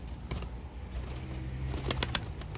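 Tumbler pigeons coo in a few soft calls outdoors on a windy day, mixed with brief wing flaps and clicks against a rumbling background.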